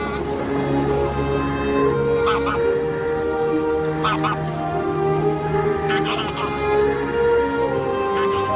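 Geese honk repeatedly in short bursts over a steady low rumble, the calls rising and falling at moderate distance.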